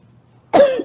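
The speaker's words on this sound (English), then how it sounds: "No, my cough is okay." A single sharp cough, close and loud, bursting out of near silence and trailing off briefly.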